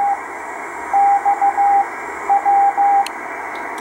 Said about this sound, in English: If you're wondering what the CW signal is sending, not too much. It's sending its ID,